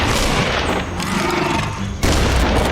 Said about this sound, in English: a good way to conserve ammo is to use the pistol to shoot crates and raptor eggs